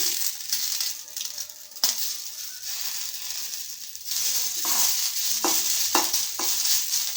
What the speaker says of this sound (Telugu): మిరపకాయలను దూరగా వేయించుకోవాలి. మిరపకాయలు దూరగా వేగాయండి.